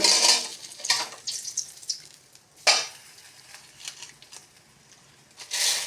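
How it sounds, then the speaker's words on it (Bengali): Oil heating in a kadai for tempering spices, with dense sizzling and frying crackle up close, broken by a few sharp stirring and pot clatters before swelling again at the end. "এখন দিয়ে দিচ্ছি সম্বাসের জন্য কড়াতে তেল।"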